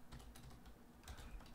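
Keys clatter on a computer keyboard while Java code is entered, a quick, close run of taps with brief pauses, heard alone without speech.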